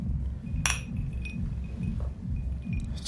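Glasses clink together in a toast, one sharp ring standing out and a few lighter clinks after it, heard over a low background hum.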